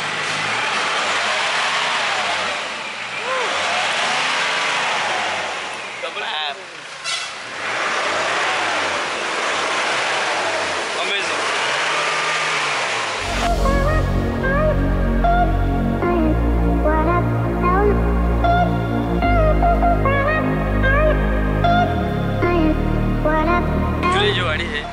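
A modified 2017 Mahindra Thar engine runs and revs repeatedly, its pitch rising and falling in loud, close swells, before music takes over and buries it for the second half.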